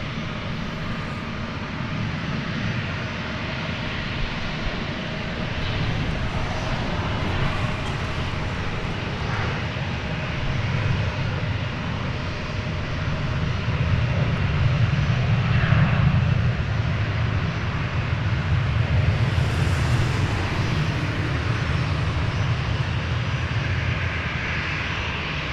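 An airplane on the runway at DFW airport roars with a steady, loud engine drone that slowly builds through the takeoff roll, a broad rumbling wash that holds for the full stretch without voices.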